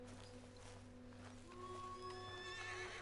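Horse in the video game Red Dead Redemption 2 giving a faint, drawn-out whinny with wavering pitch, over soft hoof clip-clops and quiet background ambience.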